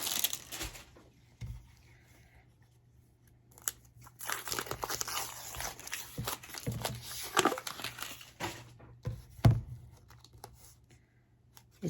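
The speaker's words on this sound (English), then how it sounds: "what I will do is just try and unwrap this real quick" A crinkly plastic packaging wrapper is pulled open for quilt journal covers, giving irregular crackling rustles and sharp crinkles close by, with louder bursts in the middle and a few quiet pauses, and no talking.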